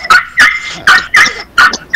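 Several sharp, loud dog barks in quick succession, spaced irregularly, close by with no talking.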